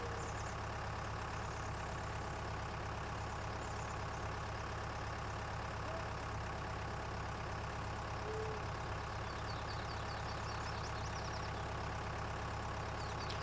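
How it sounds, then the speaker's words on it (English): A small, tiny tractor idles in Farming Simulator 19, giving a steady, low engine drone that runs unbroken from start to end at an even, moderate level with no talk over it. "This poor, dinky, sad little tractor."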